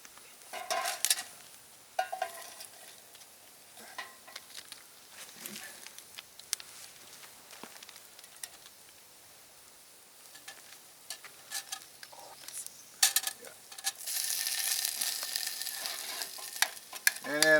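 Dehydrated Spam frying in a metal canteen cup outdoors, with soft sizzling, scraping stirs and scattered crackles that swell into louder steady frying toward the end.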